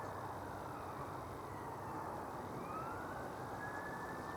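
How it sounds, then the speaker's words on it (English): Police car sirens wail faintly in the distance over low outdoor background noise in Woolton Woods, a slow rising tone drifting across the quiet. "Police sirens again."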